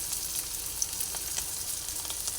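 Spices with turmeric and chilli powder frying in a pan for a prawn and pumpkin curry, a steady close sizzle with faint crackles throughout.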